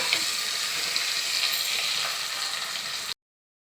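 Frying in a pan for Maharashtrian-style lapsi rava upma, a dense continuous sizzle with soft stirring scrapes for about three seconds before cutting off abruptly.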